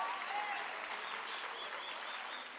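A crowd applauding at the official opening of the National Arts Festival 2022, a sustained round of clapping heard from a distance with faint voices and whistles mixed in.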